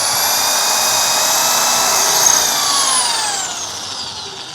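A drill bores a hole through an aluminium wheel for a tiny bicycle. The motor gives a steady, loud, high whine that holds for several seconds, then its pitch slides downward and eases off near the end.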